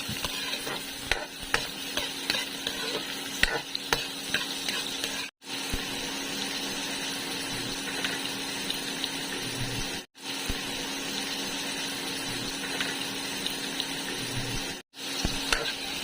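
Garlic and onion sautéing in a pan for ginisang toge with tofu, a continuous close sizzle with scattered stirring clicks, broken by three short silent cuts.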